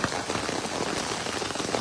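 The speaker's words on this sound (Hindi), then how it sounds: "ये देखिए झमाझम बारिश हो रही है" Heavy monsoon rain pours down in Bilaspur during a power outage, a dense, loud, continuous hiss of drops beating on surfaces close by.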